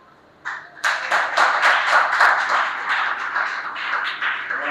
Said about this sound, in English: round of applause for Toluwa